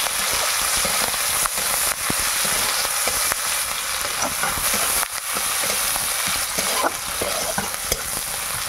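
Onions and dried red chillies fry and are stirred in a pan over a wood fire for a Bengali curry, a loud, steady sizzle with soft scraping strokes running through it and no voices.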